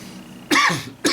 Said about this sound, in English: this cough is kind of annoying